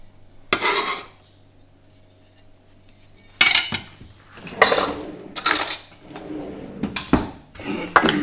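Metal utensils clinking and scraping against a bowl as herbs are mixed in, several separate bursts of stirring with quiet gaps between them, close by.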